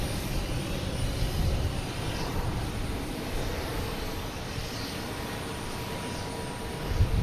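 A Southwest Boeing 737-800 airliner passes near Boston Logan Airport as a steady, broad jet rumble that swells slightly toward the end, with no voices over it.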